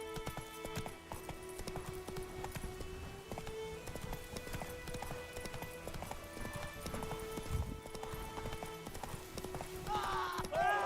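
Rhythmic clip-clop of the horse Roach galloping in the video game Witcher 3, fairly close and steady under a music and sound-effects bed, with a brief voice in the game near the end.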